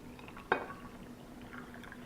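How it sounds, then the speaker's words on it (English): Brining solution poured over cabbage: a single short splash of liquid, then a faint trickle fading under a quiet background hum. "now I'm going to add the brining solution till it covers"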